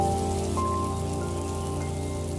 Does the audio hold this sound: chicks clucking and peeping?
no